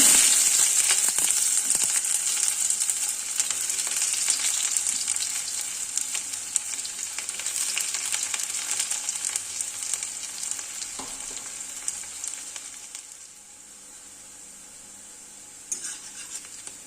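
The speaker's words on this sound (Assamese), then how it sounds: "এতিয়া আমি সৰু সৰুকৈ কাটি ৰাখা পিয়াজ ভাজি লম" Finely chopped onions fry in hot oil at the start of an egg masala, a loud, close sizzle that fades gradually, with faint scraping and a brief burst of hiss near the end.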